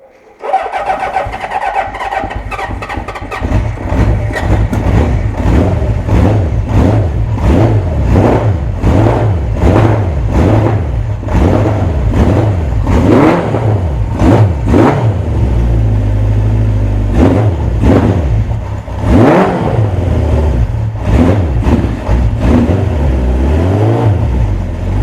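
An old Honda 750 Four motorcycle cranks over, catches and runs, its engine revved repeatedly in loud rising and falling bursts that continue throughout, close to the microphone.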